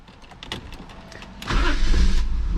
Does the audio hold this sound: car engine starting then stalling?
yes